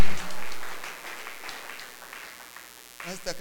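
A church congregation at a gospel gathering in Kagango claps together in brief bursts of applause, with a voice rising near the end.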